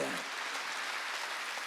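A church congregation claps together during a Wednesday worship service, a steady wash of many hands sustained evenly throughout and filling the room.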